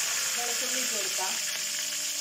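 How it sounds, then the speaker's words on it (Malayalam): Curry leaves and garlic frying in hot oil for a Kerala dish of puttu with green gram, giving a steady close sizzle that hisses throughout, with faint stirring touches and no talk. "ഇതിൻ്റെ ഒപ്പം തന്നെ നമുക്ക് കറിവേപ്പില ഇടാം"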